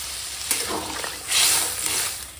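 Water is poured into a pan of frying potato curry, and a loud hissing gush swells for about a second over a soft background sizzle, then settles back, with a brief clatter just before; no voices.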